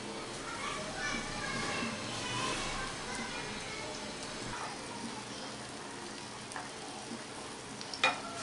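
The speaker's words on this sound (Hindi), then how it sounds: "अब फ्लेम को मीडियम करके इसमें हम ऑमलेट्स जो है फ्राई करना शुरू करेंगे।" A tomato omelette fries in hot oil in a pan over a medium flame, giving a soft, continuous sizzle with a few light clinks of a utensil near the end.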